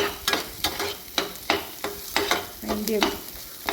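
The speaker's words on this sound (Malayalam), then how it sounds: "ഇനി അതിലേക്ക് നമുക്ക് ആ പച്ചമുളക് എടുത്തിടാം. അത് നന്നായിട്ട് ഒന്ന് വഴറ്റിയെടുക്കുക." Onion and green chillies sautéing in a pan for a bean-leaf thoran, with about ten rhythmic spatula scrapes over a steady light sizzle, close and without talk.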